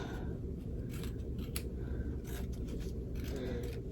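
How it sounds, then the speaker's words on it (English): Scissors snip through fabric along the stitch line of an in-the-hoop zipper bag, several close, crisp cuts in quick succession over a steady background hum. "So you are going to cut along the stitch line all the way across, getting this excess off"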